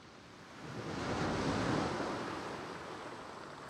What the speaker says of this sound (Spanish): Unas suaves olas llegan a la orilla.